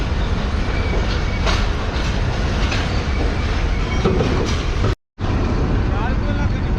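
A Subak Raftar railcar rolls along with a steady, loud rumble of wheels and carriages, broken once by a brief total dropout near the end, then resumes its continuous running noise.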